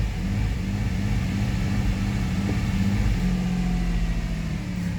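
Idling engine of a 2009 Jeep Liberty with a fuel pressure drop, a steady loud rumble held at raised revs while gas is applied, with a constant low drone throughout.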